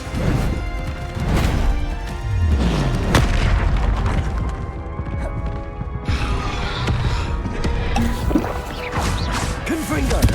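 Confringo explosive spell blasts in the Hogwarts Legacy video game, heavy booming impacts and crashes layered over dense combat noise and game music, loud and continuous.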